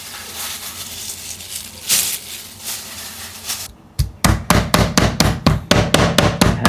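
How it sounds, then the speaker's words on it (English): Pork chops being hammered flat on a chopping board in a home kitchen: after a stretch of muffled noise, about a dozen loud, close, evenly spaced thuds land in a steady rhythm. "I just wanted to layer them all again onto my chopping board to hammer them once again"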